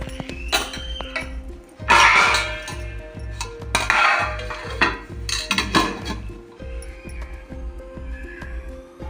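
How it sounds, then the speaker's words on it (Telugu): Metal lid set onto a pot of small fish curry, giving a few sharp clinks and clatters, one loud burst early and others spaced out, over a steady low hum in the kitchen. "మూత పెట్టుకొని"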